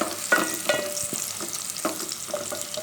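Cumin seeds and onions sizzle in a pan, a steady close fry with occasional stirring scrapes and small pops, no voices over it.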